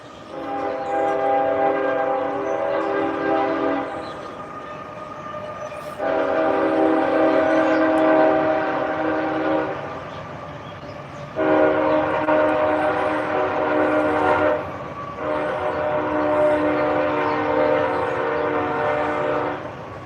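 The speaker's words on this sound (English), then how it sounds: "we can listen to the train for just a second" A train sounds its horn in four long, steady blasts separated by short gaps, loud and close, with the rumble of the rail traffic underneath and no voices.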